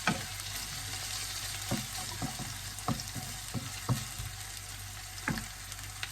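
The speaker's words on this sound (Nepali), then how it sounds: "प्याजलाई पनि सँगै मजाले फ्राई गरिदिने एकछिन।" Onions and goat liver fry in a pan with a steady, bright sizzle. Occasional scrapes and clicks from a stirring utensil break through the hiss, and no one speaks.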